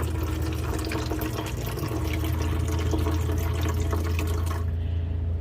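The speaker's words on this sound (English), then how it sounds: "You can see it draining from the reservoir right there" Water drains from a countertop reverse osmosis system's reservoir inside an RV, a steady close splashing trickle that runs continuously before cutting off abruptly near the end.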